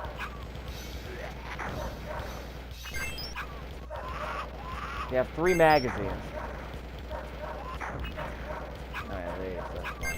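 Dogs barking and yipping in the arcade shooter Beast Busters, a few sharp barks and whimpers among game gunfire, crashes and music, with a voice talking over the action.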